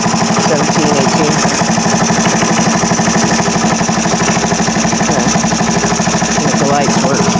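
The engine of a 1978 Indian moped runs steadily with a rapid, buzzing putter at close range, loud and continuous throughout, with someone speaking over it.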